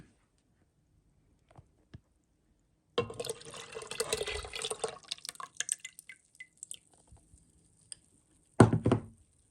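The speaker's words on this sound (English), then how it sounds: "We're just going to add this mixture into our big pot." A milk mixture for homemade yogurt pours into a big pot in a steady liquid rush lasting a few seconds, followed by a few scattered drips and a brief final splash, with no talking.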